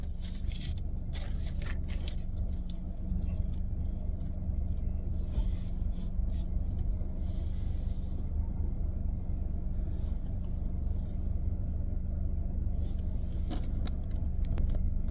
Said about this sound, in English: I'm at a car wash, by the way, so I got people walking behind me.